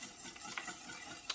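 Cornstarch and lemon juice being stirred in a pot on a stove, a soft continuous scraping and swishing with faint taps of the utensil, close and quiet, with no talking.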